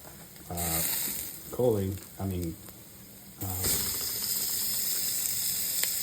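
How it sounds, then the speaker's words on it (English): Half a pound of ground beef goes into a hot pan, setting off a loud, close sizzle and hiss that carries on steadily after brief speech from a person in between. "start adding it over here into the pan that I'm cooking the beef in"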